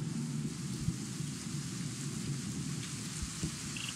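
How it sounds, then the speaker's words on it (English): Steady rain in a Roblox game hisses continuously at moderate volume, with a few low thumps underneath and no talking. "Uh-oh, it's raining."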